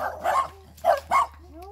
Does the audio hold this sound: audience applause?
no